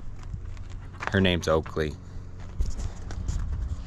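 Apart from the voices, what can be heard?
horse hooves clip-clopping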